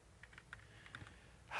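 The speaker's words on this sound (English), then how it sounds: "so I'm just kind of typing at random here." Keys on a computer keyboard being typed at random while entering Japanese text, heard as a sparse run of light, quick clicks at close range, followed by a louder burst of noise at the very end.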